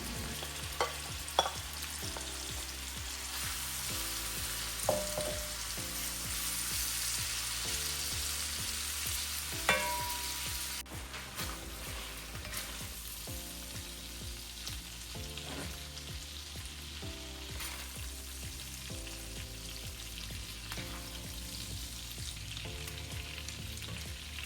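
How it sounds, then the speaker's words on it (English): Shrimp sizzling and crackling in hot oil while being stir-fried for fried rice, a steady frying hiss with occasional scraping clicks, close up and without talk. "Now I will stir fry the shrimps also."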